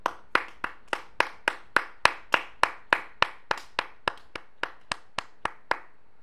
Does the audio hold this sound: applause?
yes